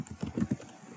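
A few quick keystrokes tap on a computer keyboard while a command is entered, soft, close clicks in a brief uneven burst, fairly faint, with no talk.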